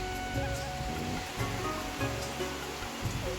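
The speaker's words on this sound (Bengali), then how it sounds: "পুরো বৃষ্টি হচ্ছে" Heavy rain falls outdoors near a house rooftop as a steady broadband wash at moderate level, with a faint tonal hum underneath.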